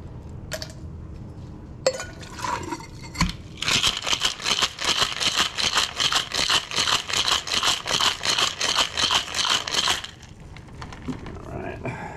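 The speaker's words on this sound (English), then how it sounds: "we're going to shake that up with some ice" Ice rattles hard inside a cocktail shaker mixing a Mai Tai, a few loose clinks first, then about six seconds of rapid, rhythmic, close shaking before it stops.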